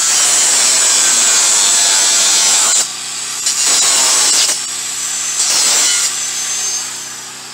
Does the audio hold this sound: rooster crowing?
no